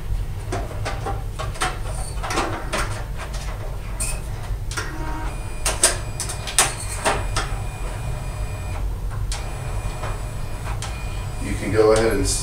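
A DTC 1000 ID card printer runs a cleaning card, with clicks, mechanical rattles and a feed whir as the card slides in and out several times over a steady low hum.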